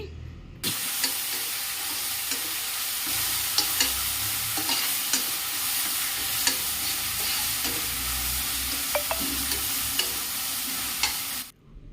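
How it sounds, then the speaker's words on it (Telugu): Ground masala paste sizzles and fries in a pan while being stirred. A steady close hiss runs throughout, broken by scraping taps of the spoon, and starts and stops abruptly. "ఇది కూడా పచ్చివాసన పోయే వరకు ఇలాగైతే వేయిస్తున్నాను చూడండి"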